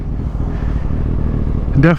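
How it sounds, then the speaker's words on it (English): Kawasaki ZX6R motorcycle fitted with an M4 slip-on exhaust, riding through Los Angeles, giving a continuous rumbling engine and wind roar, with a brief rising tonal burst near the end. "We got this M4 slip-on exhaust right now."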